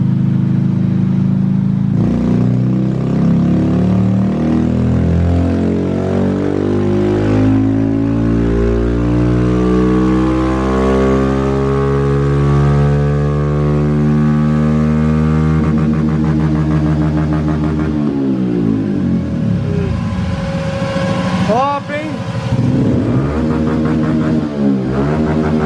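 A Honda Biz 125 motorcycle with a tuned camshaft revs steadily on a dynamometer, its engine note loud and close as it climbs smoothly in pitch and then drops back and blips again near the end.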